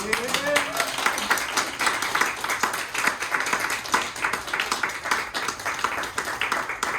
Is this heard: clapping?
yes